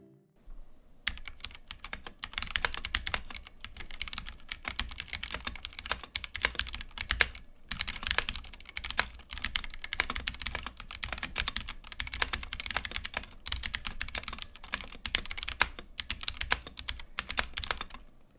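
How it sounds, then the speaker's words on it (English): Stock Ducky One 3 Mini mechanical keyboard being typed on continuously, a dense run of clacky, slightly scratchy and pingy keystrokes at close range with brief pauses between bursts, no talking. "with all the basics out of the way, here's the stock typing test."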